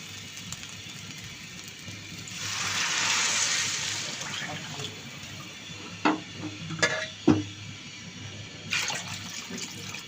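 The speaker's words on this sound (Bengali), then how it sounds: "এখন আমি দিয়ে দিব জল।" Water is poured into a pot of fried rice for a quail egg biryani: a sustained gushing pour for a couple of seconds, then several sharp clatters and bumps of the pot and utensils, with a hissing sizzle in the background.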